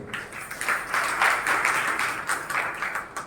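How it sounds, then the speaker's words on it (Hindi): A seated audience at a Hindi religious sermon by a Jain monk applauds, a dense, steady wash of many hands clapping together at close range, swelling slightly in the middle before easing off. "अधूरे में ताली बजाने की आदत"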